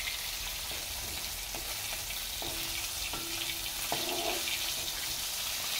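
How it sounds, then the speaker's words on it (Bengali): Hilsa fish frying in hot oil, a steady close sizzle with a few short clinks of utensils against the pan, no voices. "এই যে মাছগুলো আমি লাল লাল করে ভেজে নিচ্ছি।"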